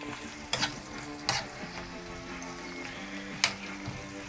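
Potato chips cooking slowly in beef dripping over low heat, a soft steady sizzle with a few louder clatters from stirring.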